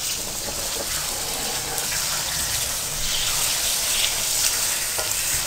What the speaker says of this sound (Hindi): मैंने तेज़ आंच पर बीफ को 5 मिनट के लिए फ्राई किया